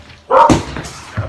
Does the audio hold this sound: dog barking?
yes